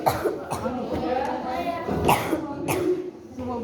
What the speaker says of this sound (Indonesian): semua batuk pun terekam.